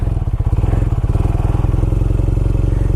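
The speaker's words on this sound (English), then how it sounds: "This bike it does have the flat boxer engine in it." A BMW R nineT Scrambler with a flat boxer twin, about 110 horsepower, pulls steadily under a rider, its loud close exhaust pulsing in a fast even beat with a deep low rumble and no talk over it.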